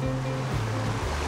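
Water at a riverside campground rushes steadily with a broad, continuous wash and low rumble, close and fairly loud with no pauses.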